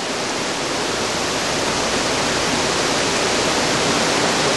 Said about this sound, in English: Gives you an idea how bad this flood really is.